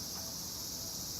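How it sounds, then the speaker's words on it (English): Cicadas singing at a neighborhood temple, heard as a steady, dense high-pitched buzz that holds evenly throughout, moderately loud and continuous with no talk over it. "we can hear cicada"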